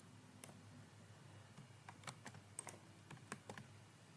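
Scattered keystrokes on a computer keyboard, with irregular bursts of clicks and short pauses, fairly close but quiet, with no voices.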